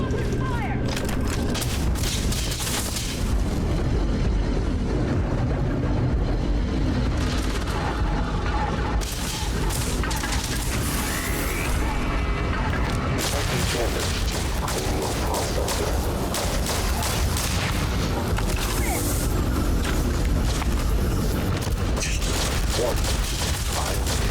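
Gunfire and explosions from various guns in Starfield during a large assault battle, dense bursts of shots and booms layered continuously over a busy background, with someone talking intermittently.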